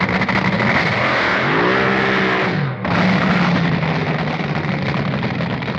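A vintage drag race car roars loudly and steadily, its engine pitch sweeping upward before a brief dip, then resuming a harsh, sustained blare as it rolls through a bleach bath to clean its tires.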